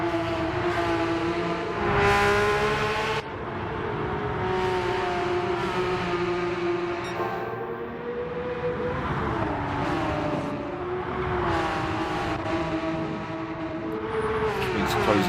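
Porsche 911 GT3 RS race cars on sport soft tyres in sim racing: engines rev hard and steadily, rising and falling through gear changes as the cars run close together out of corners.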